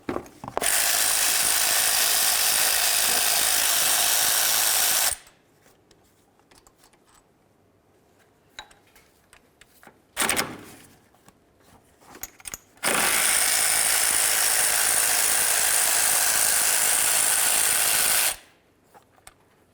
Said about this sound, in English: I'm just going to continue by removing our 3 bolts